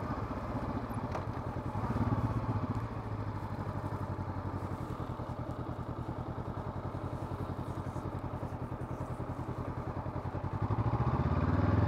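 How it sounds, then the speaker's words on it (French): A motorcycle rides a slalom course on a training lot, its engine running steadily with a rapid, even throb and brief surges as the throttle opens, heard alone at moderate distance. "Même quand on la voit faire le slalom, voilà, elle est mobile sur la moto"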